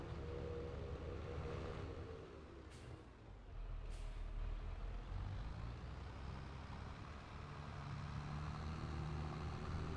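Farm vehicle driving in Landwirtschafts-Simulator 22 on the Ostseeküste map, a steady low engine drone running the whole time with a couple of sharp air-brake hisses near the start and no talk.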